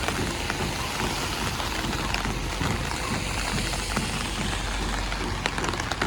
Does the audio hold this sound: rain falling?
yes